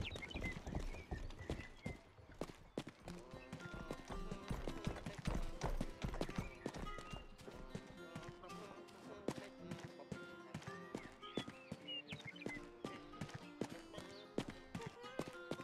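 Horse hooves clip-clop in steady rapid rhythm in the video game Rustler, close and prominent over game music with a whinny, continuing throughout.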